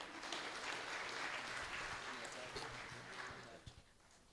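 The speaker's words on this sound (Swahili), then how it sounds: "Makofi." A church congregation at a cultural Sunday service applauds steadily, a broad wash of clapping that stays even for several seconds before tapering toward the end.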